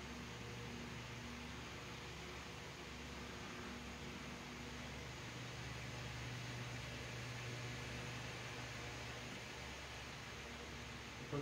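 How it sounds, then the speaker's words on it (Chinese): A small battery-powered, cordless electric fan runs steadily with a continuous whirring hum and broadband airy noise, close and even throughout with no speech. "不过这种小电风扇蛮好用的。"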